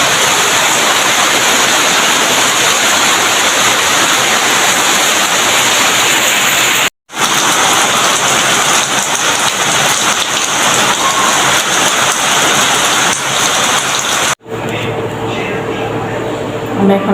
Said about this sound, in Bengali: প্রচুর বৃষ্টি, অনেক বৃষ্টি